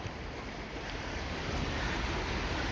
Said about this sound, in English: the water's still high here, still very fast flowing